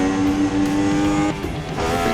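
In the Assetto Corsa racing game, a race car at the 1979 Austrian Grand Prix on the Österreichring screams past close by, its loud, steady engine whine shifting pitch as it passes over the player's own engine drone.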